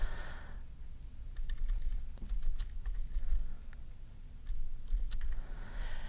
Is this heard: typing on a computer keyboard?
yes